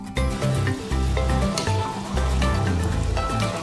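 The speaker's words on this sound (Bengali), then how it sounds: "দেখছেন তো সিঙ্গাড়া ভাজা হয়ে গেছে আমার।" Samosas deep-frying in oil, a close, continuous sizzle with bubbling and crackling that swells and eases in uneven waves.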